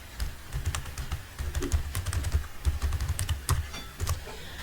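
A card number is typed into accounting software on a computer keyboard, heard as a steady run of quick, light key clicks over a low background hum, close by with no speech.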